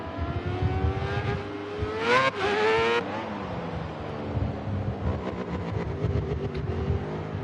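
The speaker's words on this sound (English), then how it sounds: "Nelson just comes around the final corner now to start a flying lap" A Thundersport race car comes around the final corner at Kyalami during pre-season testing. Its engine note rises to a loud, close, high-pitched pass, then drops into a steady, fading drone with gear-change pulses.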